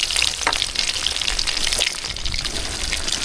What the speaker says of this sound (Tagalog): Prituin lang muna natin yan